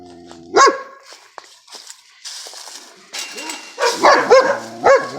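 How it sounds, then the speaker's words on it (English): Big dogs barking on a porch, scattered loud barks, a few at first and a rapid cluster near the end, over rustling background noise. "They're barking on the porch."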